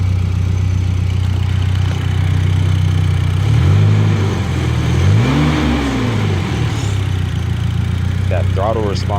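Turbocharged BMW E30 with an M42 engine runs at a steady idle, with a couple of close throttle blips that rise and fall in pitch midway through.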